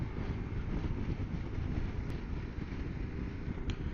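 Strong blustery southerly wind near Wellington buffeting a microphone outdoors: a continuous low roaring rumble, loud and steady throughout with no voices.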